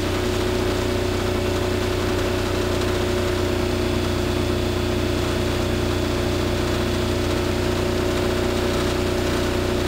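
Generator engine running at about 1800 RPM, a loud, constant mechanical hum with steady tonal whine and vibration, unchanging for the whole stretch with no voices.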